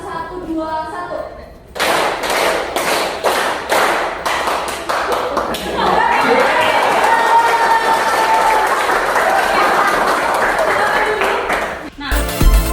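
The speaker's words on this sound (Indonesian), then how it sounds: "Tepuk 1, 1, 2, 1." A classroom of students claps a counted rhythm in Indonesia, sharp broadband claps in grouped bursts followed by a steadier stretch of massed clapping, loud and close, ending abruptly.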